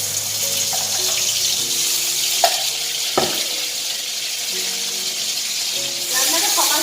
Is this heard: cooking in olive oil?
yes